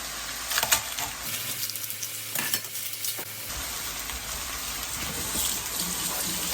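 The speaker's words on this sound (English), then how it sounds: "Just wash my hands" Tap water running as hands are washed at a kitchen sink, a steady rushing splash that stops briefly and then starts again, close by.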